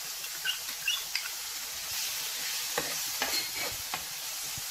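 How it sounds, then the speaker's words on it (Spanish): Pasta sauce with fried tomato, paprika and salt being stirred gently in a pan: a soft, continuous sizzle with light scraping and wet stirring sounds, fairly quiet and close, no voices. "Ahora removiendo muy cuidadosamente, un poquito, y dejando cocinar muy lentamente"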